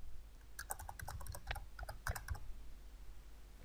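Irregular bursts of crisp clicks from typing on a computer keyboard, quiet and close, clustered in the first half and fading off toward the end.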